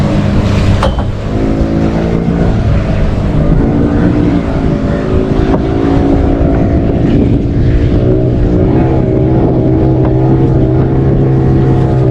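A motorboat engine drones loud and steady up close on a boat ride in Malvan, Konkan, as the boat nears its jetty in shallow water, with no talk over it.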